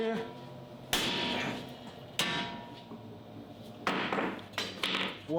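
Sharp metallic hammer blows strike the lower control arm ball joint of a 2002-06 Toyota Camry, four or five separate impacts ringing out close and loud with quieter pauses between.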